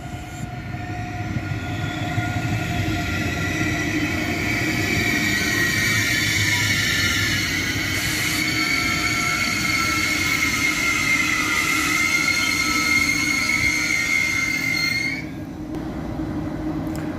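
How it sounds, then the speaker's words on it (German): A double-unit ICE 3 (Baureihe 403) high-speed train pulls into platform 6 of a mainline station, a loud sustained roll of wheels and humming traction with faint squeals, then the sound drops sharply near the end as it slows. "auf Gleis 6 fährt jetzt der ICE nach Essen und Köln-Messe-Deutz ein"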